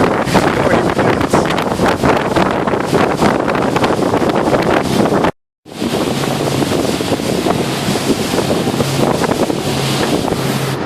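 Strong wind buffets the microphone on a boat on open water, a loud constant roar with waves and hull noise, broken by one short silent gap before the rushing resumes; no talking.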